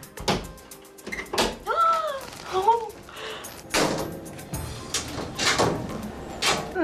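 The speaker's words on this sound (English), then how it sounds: "they just got through the screen door" A screen door is opened after lock bumping, with a series of metallic thumps, rattles and clacks from the door and frame amid background noise and a few voices.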